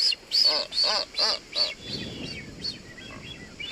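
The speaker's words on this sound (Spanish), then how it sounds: "Aves como estos piqueros de patas azules" Blue-footed boobies call on the Galápagos, a run of five loud, nasal honking whistles in steady rhythm, then softer, fainter calls over a rushing background.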